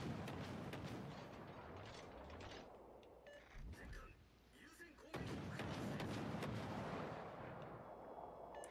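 Heavy naval gun salvos from warships in World of Warships Legends, deep booming shots rumbling beneath continuous game noise, with a voice talking.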